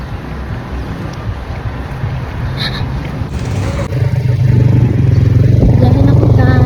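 A motorcycle engine hums steadily and grows louder as the ride gets under way, with wind buffeting the microphone and someone speaking briefly over it.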